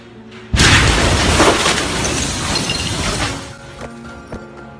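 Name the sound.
Beirut explosion recorded on camera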